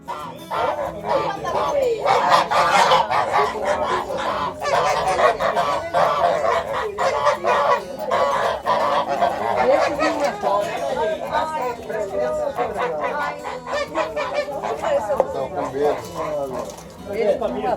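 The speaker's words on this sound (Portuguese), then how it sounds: "Ué, soltamos os gansos, estamos soltando." Geese honking loudly and continuously as they are let out on a farm orchard, a dense overlapping chorus of calls close by, with people talking underneath.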